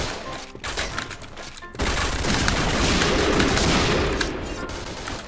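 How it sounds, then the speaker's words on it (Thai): Sustained automatic gunfire from the Point Blank shooter game, opening with scattered shots, then a dense continuous burst of rapid fire that holds loud for several seconds before easing slightly. "มาตอนนี้เราก็ยิงฝั่งตรงข้ามได้สักทีนะ"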